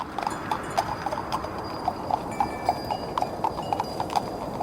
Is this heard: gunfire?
no